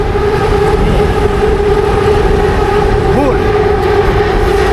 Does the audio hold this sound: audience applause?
no